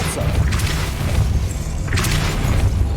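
The Depulso spell fires in the game Hogwarts Legacy, producing deep, booming thuds. Two heavy bursts land about a second and a half apart over a loud low rumble.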